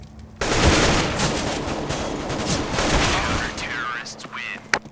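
Rapid automatic AK rifle fire from the game CS:GO rattles in dense, loud bursts for several seconds. Game effects and a voice are mixed in.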